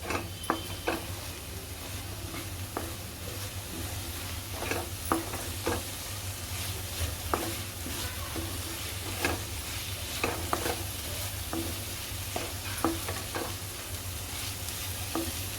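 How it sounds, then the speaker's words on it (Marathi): Spices fry in butter in a pan with a constant soft sizzle, while a spoon stirs and scrapes in frequent light clacks and taps, close and steady throughout with no talking. "चांगलं परतायचं आहे आपलं बटरवरती पूर्ण असं मिक्स करून घ्यायचं आहे"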